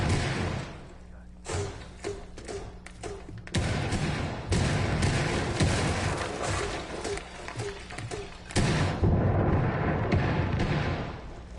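Repeated explosions and gunfire in a competitive esports shooter match, with thudding cluster-charge blasts and bursts of shots that swell and fade at moderate volume over a continuous roar of battle.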